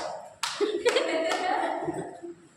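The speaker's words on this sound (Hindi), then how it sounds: "एक बच्चा ऐसे ताली बजा रहा है" A single child claps hands a few times during a religious talk, sharp separate claps spaced about half a second apart, heard under a voice speaking nearby.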